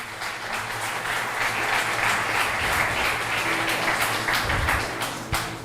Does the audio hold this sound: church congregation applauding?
yes